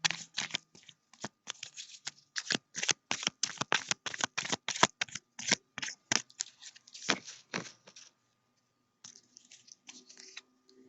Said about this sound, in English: We're just going to do a quick shuffle. Again, this is general tarot. This is the Rider-Waite deck